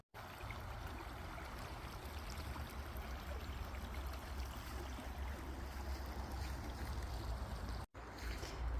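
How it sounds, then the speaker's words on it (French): A small river flows through a campsite at Saint-Alban-sur-Limagnole, giving a continuous soft, even rush of water that stays steady throughout with a brief cut near the end. "j'ai évidemment une petite rivière qui coule dans le camping"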